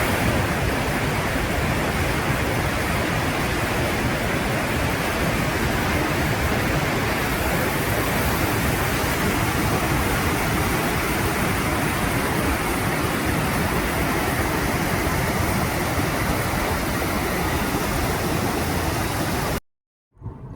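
The Grand Chute waterfall in Quebec roars as a loud, dense, unbroken rush of water filling the whole scene, close and constant for about twenty seconds before cutting off abruptly.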